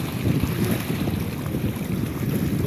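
Strong wind roars into the microphone over churning, rough water, a dense continuous rumble with no voices.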